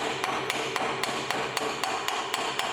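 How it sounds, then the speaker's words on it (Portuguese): Hammer chipping slag off a weld on thick steel plate, heard as a rapid even series of about a dozen sharp metallic taps over a steady background hiss, close and alone. "Então eu vou remover a escória."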